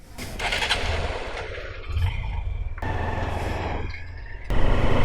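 Motorcycle engines crank and catch one after another, each start jumping into a loud, rough idle that keeps running close by.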